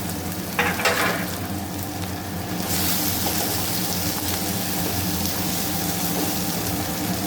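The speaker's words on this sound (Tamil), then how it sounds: "வெங்காயம் பச்சை மிளகா கருவேப்பிலை அரிஞ்சு வச்சுருக்கோம் பாருங்கள் நைஸாக அதை அரிஞ்சு அதை போட்டு தாளிச்சுக்கணும்" Chopped onion, green chili and curry leaves sizzle and spit as they hit hot oil, a dense steady frying hiss that swells louder partway through and carries on without pause.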